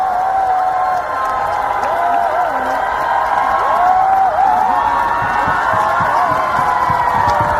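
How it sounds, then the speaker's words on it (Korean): A concert crowd applauds and cheers for the dance team, with sustained clapping and high whoops and shrieks rising over a loud, continuous roar of the audience. "또 제 옆에서 항상 무대를 꽉 채워주시는 우리 안무 팀에게도 큰 박수 부탁드리겠습니다"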